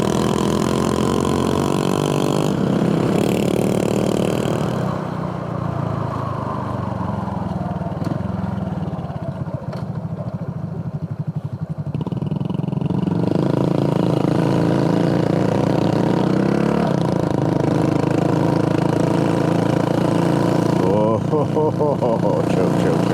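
A scooter engine labours up a steep road in second gear at full throttle, a steady loud drone with rising and falling strain, while someone talks over it for much of the time.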